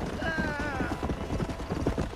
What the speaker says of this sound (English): The war horse, I named Tomahawk because on multiplayer, if you get him